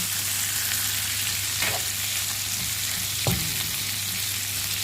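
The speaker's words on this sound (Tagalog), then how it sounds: "So, ilagay na natin yung shrimp" Shrimp frying in butter with browned garlic in a pan, a steady loud sizzle running throughout with a couple of brief stirring scrapes, no voices.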